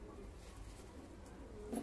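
Pigeons in a breeding loft housing Lakka fantails coo softly against a low background murmur, a fuller coo swelling near the end of the short stretch.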